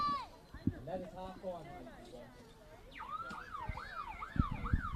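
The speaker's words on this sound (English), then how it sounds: "There goes the siren in the background." Half-time siren wailing across St Mary's Stadium number 2 during an Emerging Nations rugby league third place playoff between Greece and Hungary, a rising and falling tone heard in the background under commentary.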